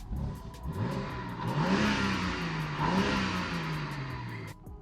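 Car engine and exhaust in comfort mode, revving up smoothly in two swelling pulls with a muted, restrained exhaust note, heard fairly close with no talking.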